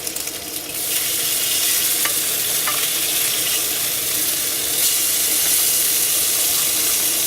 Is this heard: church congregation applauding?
no